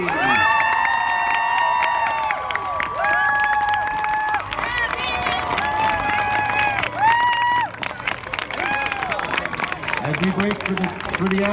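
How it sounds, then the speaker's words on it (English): A crowd at a high school marching band state qualifier competition cheers and claps for the bands, loud and sustained, with shouts, whoops and high-pitched cries standing out over the clapping. "let's hear a final round of applause for all of the bands that performed today"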